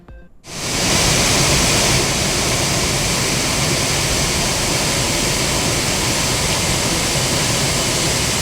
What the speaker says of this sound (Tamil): தென்காசி மாவட்டத்தில் பெய்த தொடர் மழையால் குற்றால அருவிகளில் வெள்ளப்பெருக்கு